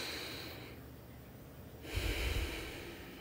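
Slow, audible breaths during a yoga pose in a beginner class, a soft hiss of inhaling followed by a fuller, louder exhale near the microphone, with no talking.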